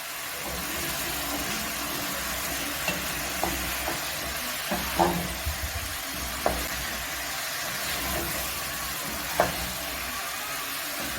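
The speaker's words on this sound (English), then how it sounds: "I'll go ahead and stir everything" A spoon stirs an arrowroot and potato stew in a cooking pot, giving scattered scrapes and soft clinks over a steady low background hum, with no voices.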